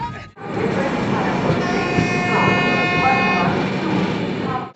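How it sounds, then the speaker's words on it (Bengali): Passenger train moving between Kolkata and Bardhaman, a steady rumbling rattle of the carriage running continuously at close range, with faint horn-like tones above and some voices mixed in. "আর এই যে চলেছে আমাদের ট্রেন"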